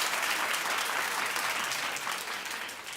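Moderate clapping from a talk show studio audience rolls on evenly for a few seconds, gradually thinning and growing quieter toward the end.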